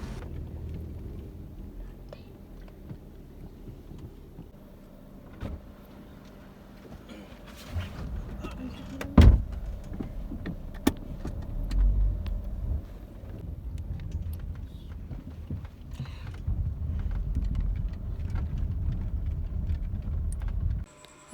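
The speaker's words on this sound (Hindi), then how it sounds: "इस वजह से जो गाड़ी है वो सही अपने पाथ पे नहीं चल पा रही थी और आगे पीछे हो रही थी" A car driving along an uneven, winding road on the way up to a shrine in Sindh, a steady low rumble of engine and road noise with wind buffeting that swells louder toward the end.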